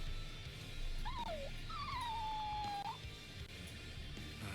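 A stray dog in the video game Bleach Rebirth of Souls whimpers in two thin, high whines, the second long and drawn out, over a soft low game background with no talk.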